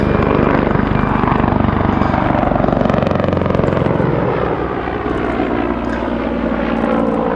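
A Czech Air Force Mi-35 helicopter flies past at the Duxford Battle of Britain airshow, its loud, steady rotor and turbine roar holding close and continuous throughout, easing only slightly toward the end.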